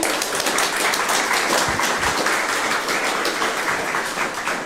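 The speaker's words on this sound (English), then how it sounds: "a big round of applause for those folks" Conference audience applauding at an opening session, a dense steady wash of many hands clapping at a constant loudness throughout, with no talk over it.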